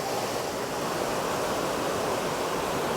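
Dollywood's Glacier Ridge waterfall pours in a steady, dense rush of water, constant and fairly loud throughout with no voices over it.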